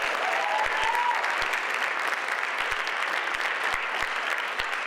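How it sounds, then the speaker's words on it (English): Audience at a folktale storytelling competition applauding, a dense, loud and steady roar of many clapping hands that lasts throughout, with a few sharper individual claps standing out. "please give a round of applause for Monique Franco."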